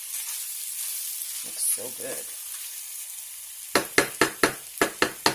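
Onions caramelizing in a pan for Swedish meatball gravy give a steady, soft frying sizzle, with a brief voice partway through and a run of sharp stirring or scraping taps near the end.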